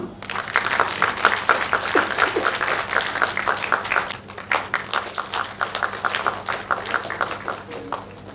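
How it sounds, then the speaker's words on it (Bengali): An audience at a United Nations Day celebration on a festival stage in Kankurgachi breaks into loud, dense clapping that swells, then thins into scattered claps, with voices mixed in underneath. "এই শুভক্ষণে একটা জোরে করতালি"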